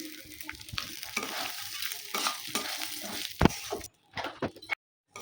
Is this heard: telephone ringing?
no